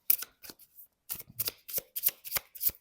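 Oracle cards being drawn and handled from a deck: a series of short papery flicks and shuffling swishes, close and crisp, in quick irregular bursts with brief pauses, no talking.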